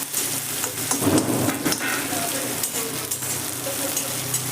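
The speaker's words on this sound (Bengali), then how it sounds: "পেঁয়াজটা দিয়েও আমি তেলে নেড়ে নিচ্ছি" Medium onions sliced lengthwise, one and a half of them, frying with garlic in oil for egg bhurji. A steady, dense sizzle runs throughout with a few louder bursts as the pieces are stirred around the pan.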